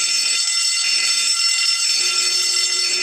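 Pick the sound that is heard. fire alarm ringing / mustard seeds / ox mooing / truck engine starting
fire alarm ringing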